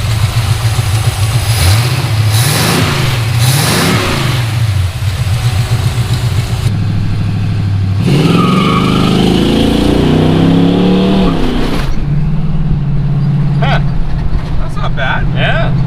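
LS-swapped car engine running close by, with a low idle rumble and rising revs in bursts, heard under people talking throughout.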